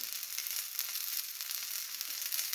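Rohu fish tail pieces frying in a pan, a steady close crackling sizzle of hot oil with fine popping throughout and no voices.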